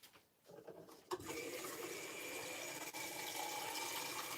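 Water from a tap runs steadily into a glass meant for rinsing paint, starting with a few faint splashes, then settling into a continuous gentle hiss and trickle, quiet and close, with no talk.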